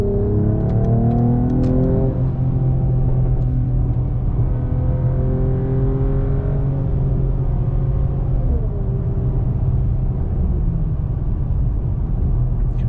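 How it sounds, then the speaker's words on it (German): Mercedes-AMG CLS 53 4Matic+ accelerating uphill on the autobahn, a deep rumbling engine climbing in pitch with a gear change midway, under steady loud road and wind roar heard from inside. "wir machen jetzt hier mal einen kleinen Beschleunigungstest, beziehungsweise fahren wir jetzt mal bergauf"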